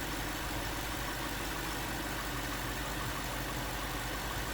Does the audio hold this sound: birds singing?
no